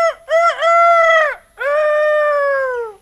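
A man imitates a rooster crowing with his voice: two loud, close, drawn-out crows in quick succession, the second longer and trailing off.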